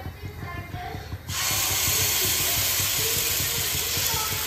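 Food shallow frying in a pan with desi ghee: a loud, steady hiss bursts in after a second and holds, with a faint low rumble beneath.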